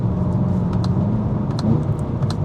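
A BMW E92 M3 with a Stage 1 ECU tune on its first drive, engine rumbling steadily at close range as road noise fills the cabin, with faint clicks and no talk.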